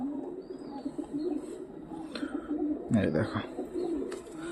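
Pet pigeons kept at a home in India coo in soft, low, repeated throaty calls close by, while a person talks over them.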